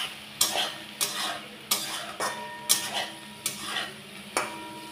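Okra being stir-fried with poppy seed paste in a pan over high heat: a steady sizzle punctuated by regular scraping strokes of a spatula against the pan, roughly once a second, close and clear with no talking.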